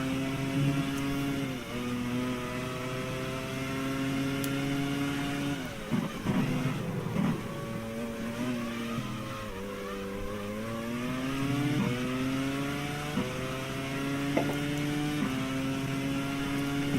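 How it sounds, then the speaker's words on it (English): Simulated F1 car engine from GPRO 2002 during the Malaysia race, a steady sustained tone with pitch sweeping up and down as the car accelerates and lifts, playing continuously at moderate level with no talking. "The engine has just come back."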